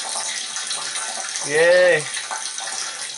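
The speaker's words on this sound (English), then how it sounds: "There's water running into the house" Water from a ram pump pours steadily into a 30-gallon tank inside a house, a continuous close splashing rush, while a voice briefly cheers over it.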